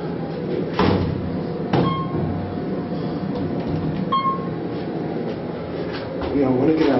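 Otis hydraulic elevator doors at a lodge slide open and shut with soft rumbling thuds and a couple of brief chimes, while people talk nearby throughout.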